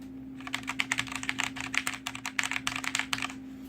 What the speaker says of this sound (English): So as you can tell, it is the Cherry MX Red key.